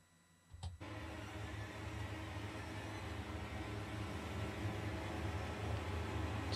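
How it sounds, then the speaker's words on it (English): In a doom death metal mix, a riser sound effect kicks in suddenly and holds as a broad, noisy wash that swells gradually louder and brighter, building tension alone with no voices. "There's a riser sound."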